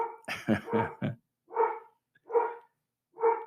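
A dog barks about seven times, first a quick cluster of four sharp barks, then three single spaced barks with silence between them, loud and close with no talk.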